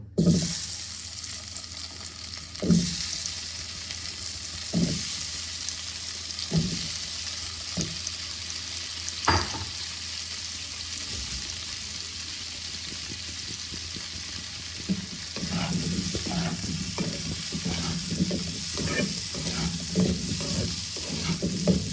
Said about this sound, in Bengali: এবার আমি ওই বাটার তেলে আমি ছোট আলুগুলোকে ভেজে নেব।